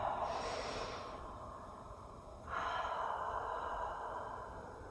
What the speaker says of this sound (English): Do that again, inhaling and then opening the mouth to exhale.